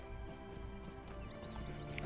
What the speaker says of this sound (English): Now we'll jump back up on our horse, and we'll head over this way.